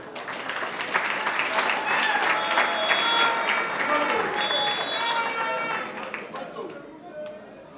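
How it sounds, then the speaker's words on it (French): Audience applause at a Congolese political gathering, a dense, steady wash of clapping sustained throughout, with a voice announcing over it. "l'honorable Raymond Tchélia, que je vous prie d'applaudir s'il vous plaît."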